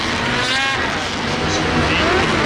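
Old snowmobiles racing around a track in a cheap snowmobile race, engines whining loud and continuous as sleds pass near, the buzz overlapping and shifting as they go by, with a voice speaking over the noise.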